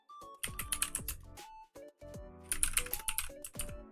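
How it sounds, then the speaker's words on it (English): Fast bursts of clicky computer keyboard typing come in two clusters with a short pause between them. The keystrokes are close and fairly loud, with nobody speaking over them. "if you hear typing"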